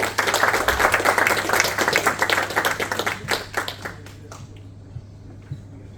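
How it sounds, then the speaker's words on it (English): A small audience at a lounge event claps loudly and briskly for about three seconds, then the applause thins into a few scattered claps and fades out. "give a round of applause"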